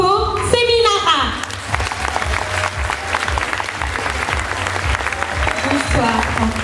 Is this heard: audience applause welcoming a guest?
yes